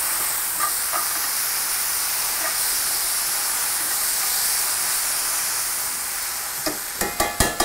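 Sauce stirred in a hot pan gives a loud, steady hissing sizzle throughout, ending with a quick series of sharp utensil scrapes and clinks.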